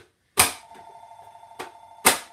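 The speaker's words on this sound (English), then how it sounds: "We're going to ignore my telephone." A home phone rings in a kitchen during cooking, three sharp electronic ring bursts with a faint steady tone between them, fairly loud and close.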